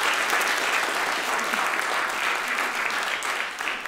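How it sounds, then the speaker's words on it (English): An audience at an evening education research lecture applauds two speakers, a steady, moderately distant wash of clapping that holds throughout without anyone speaking over it. "a round of applause for our first two speakers"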